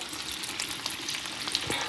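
Close, steady sizzling of food frying in a pan, with a few soft scrapes and crackles and no voices.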